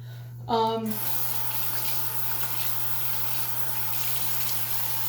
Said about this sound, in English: now I just rinsed my face off